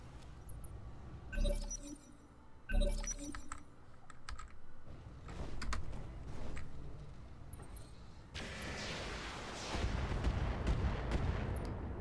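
Weapon fire in the mech combat game Roguetech: a series of sharp impacts and bursts in quick succession, followed by a sustained louder rumble of shots and explosions near the end, with no talk.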